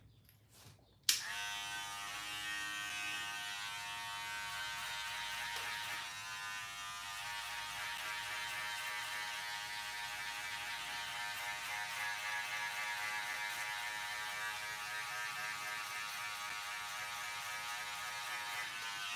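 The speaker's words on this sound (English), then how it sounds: "put the one guard, and then you just shave it. Shave whatever's left" An electric hair clipper fitted with a number one guard switches on and buzzes steadily at close range while cutting hair, a continuous even drone with no talk.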